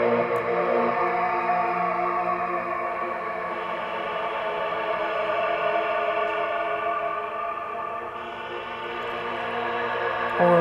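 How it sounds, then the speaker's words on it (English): Spring reverb spreads a sustained tone into a thick, shimmering wash that stays dense and steady, dipping slightly before swelling again near the end. "How about a spring reverb?"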